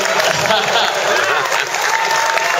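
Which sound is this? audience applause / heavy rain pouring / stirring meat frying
audience applause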